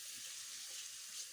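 Water pours into a hot pan of chicken, a steady, close hiss of running liquid lasting just over a second, with no voices over it.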